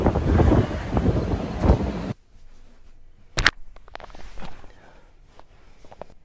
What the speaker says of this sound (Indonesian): adalah angin di sini tuh kenceng banget